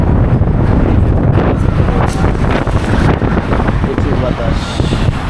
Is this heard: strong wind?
yes